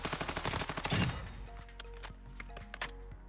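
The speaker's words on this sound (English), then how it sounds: "I got to show you the hip fire on it." Assault rifle hip-fired in Warzone 2, a rapid burst of close, loud automatic shots for about a second, then scattered impact clicks and faint game sounds.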